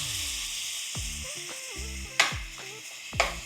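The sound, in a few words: lean ground beef frying in oiled pan with seasoning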